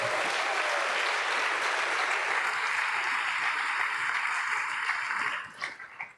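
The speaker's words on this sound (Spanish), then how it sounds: "¿Cuántos saben y le dan palmas al Señor por eso" A church congregation breaks into loud, sustained applause for several seconds, a dense crowd clapping that fades out abruptly near the end.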